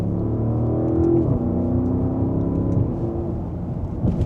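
Audi SQ8 Prestige (2025) accelerating in dynamic mode in second gear: a steady, smooth engine drone with rising tones, heard from inside the cabin with no talk.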